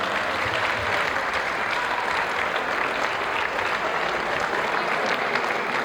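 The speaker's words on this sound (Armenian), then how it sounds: "Ես պետք է խնդրեմ առանձնահատուկ ծափահարություններ Արշակյան Ֆրունզեի" A crowd at an Armenian gathering claps in honour of Arshakyan Frunze, dense and loud applause holding steady from start to finish.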